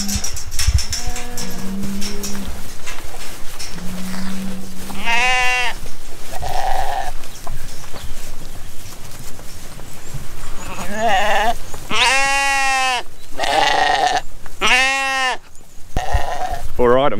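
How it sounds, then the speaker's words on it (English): Sheep on a farm bleating repeatedly, several loud, close calls with wavering pitch, mostly clustered in the second half over continuous outdoor noise, with a person talking at times. "But there is 4 sheep in here, just over there"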